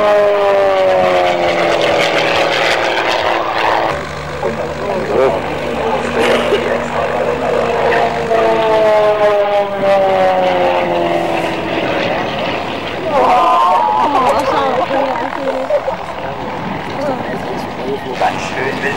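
A Junkers Ju 52 propeller aircraft flies inverted over an airfield at an air show, engine pitch rising and falling as it passes, loud and close, with a voice talking over it.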